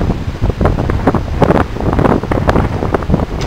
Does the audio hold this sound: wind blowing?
yes